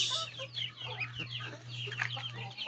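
Small chicks and chickens clucking and peeping outdoors, outside the coop, in a steady scattered chorus of overlapping calls at moderate distance, with a low constant hum beneath.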